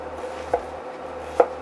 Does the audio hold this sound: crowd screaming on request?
no